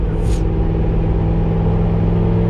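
The 800hp Corvette Z06 engine drones loud and close with a deep, steady rumble and a low hum, the sound rising briefly near the start.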